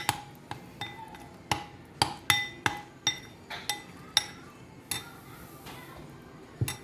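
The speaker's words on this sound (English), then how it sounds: "I'm going to mix it up with those ingredients" A spoon strikes a bowl in a string of sharp, bright clinks at an irregular pace while beauty ingredients are mixed, each tap close and distinct over a quiet background.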